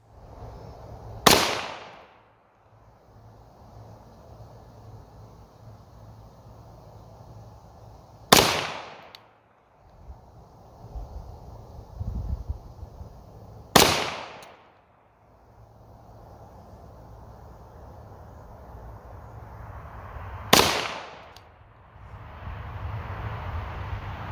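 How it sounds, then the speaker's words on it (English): Four sharp 9mm pistol reports from a Walther PPQ at a 50-foot range, spaced several seconds apart, each loud and abrupt with a brief decaying tail over faint background noise. "same course of fire, 50 feet from the rested position with the Walther PPQ"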